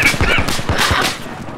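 An AK rifle fires in rapid automatic bursts in Battlefield 4 on the Paracel Storm map, a loud, close, evenly spaced string of about half a dozen cracking shots.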